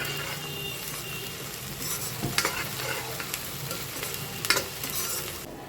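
Onions sauté in a pan for crab curry, a continuous close sizzle with repeated spatula stirs and scraping clicks against the metal, steady and fairly loud from start to end.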